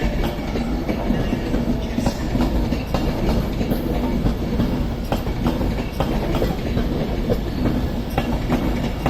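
A Class 390 Pendolino electric train passes close by at Crewe on the West Coast Main Line, a steady loud roar with clickety-clack wheel rhythm running throughout, no voices.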